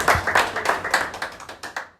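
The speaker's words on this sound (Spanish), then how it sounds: "Démosle un aplauso al Señor" A church congregation claps in a steady, fairly even rhythm of about a dozen sharp hand claps over two seconds, close and clear with no voices.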